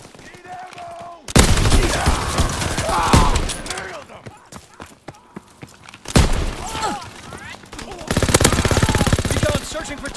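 Heavy suppressing gunfire in the Call of Duty: WWII video game, loud bursts of automatic fire and rattling shots in several long volleys with brief lulls, mixed with booms and faint voices.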